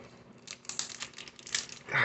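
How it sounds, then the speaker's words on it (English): A foil pack of 1991 Fleer Ultra baseball cards is torn and crinkled open up close, giving a series of sharp, irregular crackling bursts. "gonna open Flair Ultra baseball cards too"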